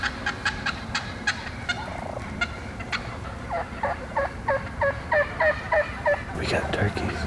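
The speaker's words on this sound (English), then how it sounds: "We got turkeys coming in all around us" Wild turkeys gobble repeatedly close by as they come in over the decoys during a fall hunt, a run of rapid rattling bursts with more fowl calls layered around them.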